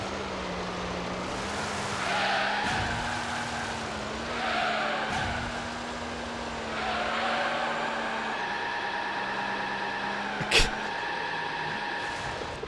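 Racing car engine noise from the PlayStation 2 game Gran Turismo 3: A-Spec, a steady droning engine note rising and falling through gear changes during a race, with tire squeal and a sharp brief knock near the end.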